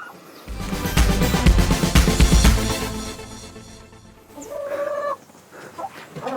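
Several chickens cluck and squawk close by, busy and overlapping at first, then a few quieter, scattered calls.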